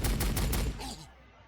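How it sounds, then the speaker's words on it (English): Bolter fire in the Warhammer 40,000: Sanctus Reach strategy game, a dense burst of loud, rapid shots filling the first second, then fading into a short tail. "have some bolter fire"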